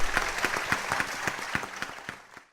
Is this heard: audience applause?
yes